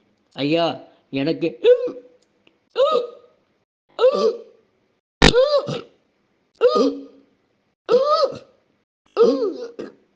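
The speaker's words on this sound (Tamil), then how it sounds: "விக்கல் நிற்கவே மாட்டேங்குது ஐயா." A man's repeated hiccups come in nine evenly spaced, sharp voiced bursts with short pauses between them, close and clear. A few spoken words are mixed in.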